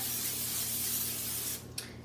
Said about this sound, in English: I'm going to go ahead and spray this with some cooking spray.